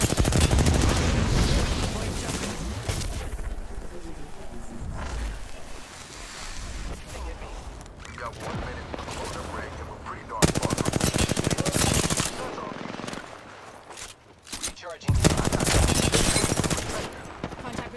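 In an Apex Legends firefight, rapid machine-gun bursts and heavy gunfire sound loud and continuous, broken by short lulls. Game ambience sits underneath along with occasional speech.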